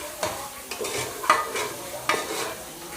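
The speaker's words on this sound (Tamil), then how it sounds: "நல்லா மிக்ஸ் பண்ணி விட்டுருங்க உப்பு போட்டதுக்கப்புறம்." A spoon stirs mint biryani mixture in a pan after salt is added, giving several scraping strokes over a soft sizzle close by, with no voices.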